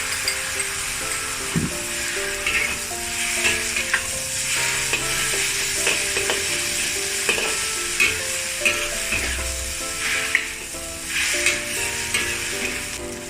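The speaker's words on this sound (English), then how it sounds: "Add the stir-fry sauce that we have prepared." Stir-fry sauce sizzles hard in a hot wok for beef chow fan, a loud steady frying hiss broken by repeated scraping and clacking strokes of stirring.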